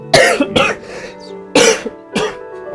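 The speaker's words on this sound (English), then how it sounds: "I'm just getting over COVID right now, so I will be coughing for the next 2 weeks" Someone recovering from COVID coughs close to the microphone, four harsh, separate bursts at uneven intervals with brief throat-clearing between them.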